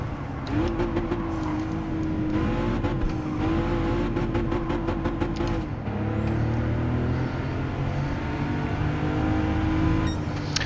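A car engine in a racing video game during a license test, held at high revs with a loud, continuous drone and a shift in pitch partway through, with no speech over it.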